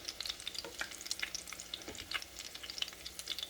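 Salmon croquettes fry in a pan, a soft, quiet crackle and spatter of popping oil with light clicks, close but faint and steady, with no voices.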